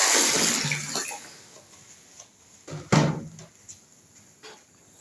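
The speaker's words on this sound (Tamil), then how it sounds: "தண்ணி ஊற்றுறேன்" Water pours into a cement mix at the start as a loud rushing splash, then fades into quieter scraping and knocks, with one sharper thud midway.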